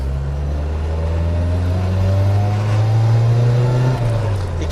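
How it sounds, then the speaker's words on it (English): Nissan Skyline R30 turbo car driven up through the gears, a loud steady engine drone with rising and falling tones as the turbo spools, heard from inside the car. "You can hear the turbo spooling"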